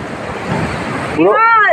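A big sea wave surges and crashes onto the beach, a loud roaring wash filling most of the moment, then giving way to a sudden tonal whine near the end.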